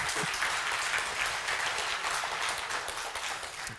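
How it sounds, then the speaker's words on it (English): Audience applause fills a conference hall after a talk, a dense, steady wash of many hands clapping at once that holds loud throughout and eases slightly at the end. "A round of applause, please."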